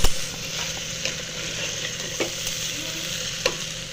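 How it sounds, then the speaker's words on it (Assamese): Rice being stirred in a frying pan for pulao after browned raisins and other ingredients, a steady sizzle with scattered scraping clicks of the spoon against the pan, close and alone. "এতিয়া মই ইয়াতে চাউলখিনি এড কৰি দিওঁ। এতিয়া মই এনেদৰে লৰাই দিব লাগিব।"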